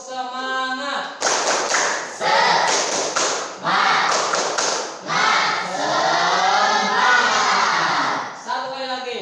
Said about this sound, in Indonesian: Kita tes semangat dulu ya dengan bertepuk semangat.